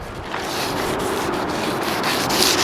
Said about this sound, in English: taking the supplied sponge and pretty much just going at it